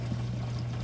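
Water pours steadily into a container to fill it to the line, a continuous close trickling wash over a constant low hum.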